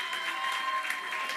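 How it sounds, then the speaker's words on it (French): A church congregation at a French-language worship service acclaims the king of kings with a brief burst of steady applause and crowd cheering, a dense wash of sound without distinct speech. "Est-ce qu'on peut faire monter un instant une acclamation pour le roi des rois?"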